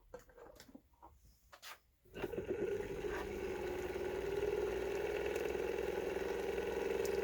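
A 3D printed pulse motor running at 12 volts: faint taps and clicks, then it starts up and spins with a steady, close whirring hum and buzzing drone that grows slightly and holds to the end.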